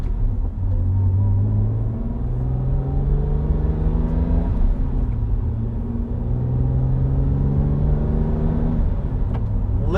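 A BMW N52 inline-six with an upgraded exhaust revs up toward 7000 RPM, a loud, close, continuous engine drone whose pitch climbs and dips in repeated sweeps with no talking.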